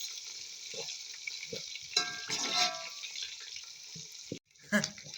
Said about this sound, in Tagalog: Sauteing garlics, onions and garlic. Garlic is already brown, and also this onions.